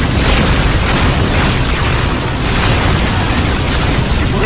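Low-yield torpedo explosions in a film, a loud dense booming roar that fills the whole stretch without a break.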